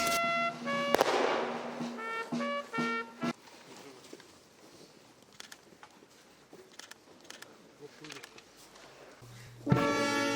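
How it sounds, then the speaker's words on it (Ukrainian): Honor guard rifle volley at a military funeral for a Ukrainian National Guard junior sergeant in a village cemetery: a sharp shot rings out near the start, another close to the end, with crowd murmur and faint talk between. "Постріли почесної варти сповістили про те, що тут навіки спочив герой, який загинув за Україну"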